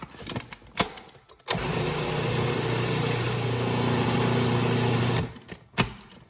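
A blender whirs loudly and steadily for about four seconds while blending a greens smoothie with chard, with close clicks and knocks before the motor starts and after it stops.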